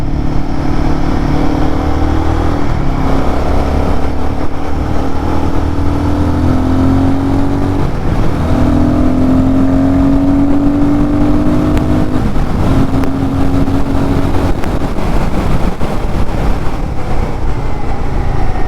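A Royal Enfield Guerrilla 450 motorcycle is ridden and then braked. Its loud, close engine drones continuously, with its pitch rising and falling as speed changes.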